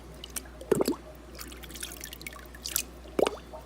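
Water splashes and drips as it is poured from a bucket while dipping out pleco fry, a few short wet slops and trickles close by, fairly faint over a low steady hum.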